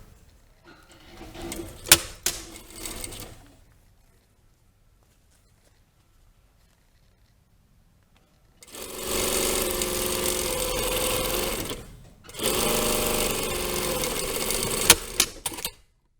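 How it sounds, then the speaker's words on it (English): A sewing machine stitches darts in a jacket lining, with faint handling noises early on, a long quiet stretch, then two loud close bursts of fast stitching separated by a brief stop. "I'm sewing these, the back darts are the same"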